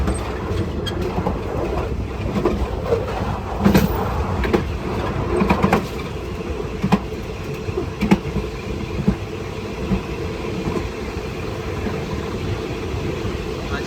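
A Thai express train, number 135, rolls into Ban Bok Paek station, with a steady rumble, clicking wheels on rail joints and occasional louder knocks, heard from the rear of the train while someone talks over it.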